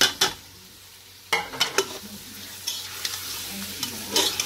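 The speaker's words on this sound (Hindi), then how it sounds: "अब इस मसाले को अच्छी तरीके से आप भून लीजिए कि ऑयल अपना आप छोड़ दे।" Masala and minced meat frying in a pan for keema with bitter gourd, a close sizzle broken by repeated scraping stirs of a spatula against the pan, with no talk.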